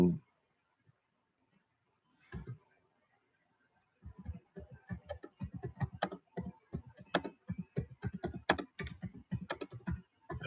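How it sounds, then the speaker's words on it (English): Typing on a computer keyboard while posting in a live chat: after a near-silent pause with a stray keystroke, a fast, close run of clicking keystrokes starts and continues steadily, with no talk over it. "I am typing in the live chat where I have no streaming"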